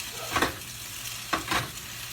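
Lemon juice and minced garlic hit a hot skillet, giving two bursts of bright crackling sizzle over a low, steady frying hiss.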